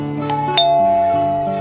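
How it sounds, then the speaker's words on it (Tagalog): A doorbell chimes a clear ding-dong, its ringing tones sustained and decaying, heard close and alone. "Pindutin ko nga ulit itong doorbell."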